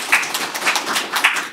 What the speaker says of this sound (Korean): 일단 박수로.